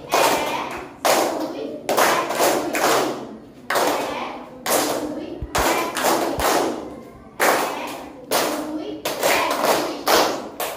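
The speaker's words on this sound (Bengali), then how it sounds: "সবাই মিলে জোরে গাইড তালি বাজাই" A group of Girl Guides claps loudly together in a guide clap, rhythmic bursts of many hands in repeated patterned phrases with short pauses between, close and sharp, with children's voices mixed in.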